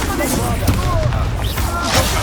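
Confringo blasting curse explosions in the Hogwarts Legacy video game, loud booming blasts and crackling magic effects running continuously through a dense battle mix, with voices heard over the action.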